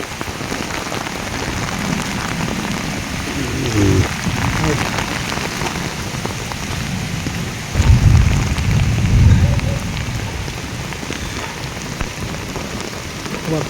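Heavy rain pours continuously in a dense, hissing wash, with a couple of low rumbling swells partway through.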